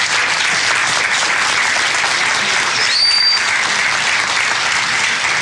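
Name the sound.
applause for the fathers at church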